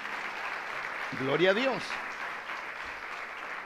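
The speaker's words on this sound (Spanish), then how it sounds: "¿Alguien le puede dar un aplauso al Señor en esta mañana?" A church congregation applauds during a Spanish-language Christian sermon, steady clapping filling the room throughout while one voice briefly calls out over it.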